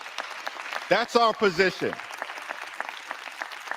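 Scattered light golf claps in a US House chamber during a budget debate, sparse and soft, continuing behind someone speaking at the floor microphone.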